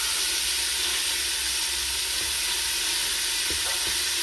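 Beef or lamb mince sizzling and frying steadily in a hot pan, a continuous close hiss with a few soft scrapes and knocks as the meat is crushed.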